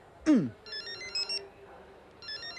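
A telephone ringtone plays in repeated short electronic bursts, preceded by a sharp sliding tone, fairly close and clear over a quiet room with no talking.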